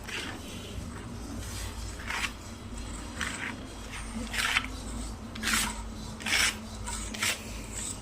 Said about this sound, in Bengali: এবার সর্ষে আর লঙ্কাটা প্রথমে বেটে নিচ্ছি